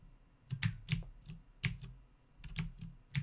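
Computer keyboard keys are pressed in short irregular bursts of clicky taps, close and clear with pauses between, while controlling a crane in Tow Truck Simulator 2015, with no talk over them.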